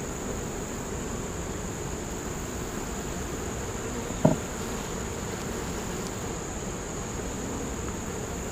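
Honeybees buzzing around beehives, a steady, continuous hum filling the air with one brief tap partway through.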